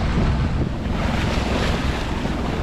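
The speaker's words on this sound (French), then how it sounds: "Clapotis! Pas super agréable." Choppy waves slap and wash against a sailboat hull on the St. Lawrence River, a loud, steady churn of water mixed with heavy wind buffeting the microphone throughout.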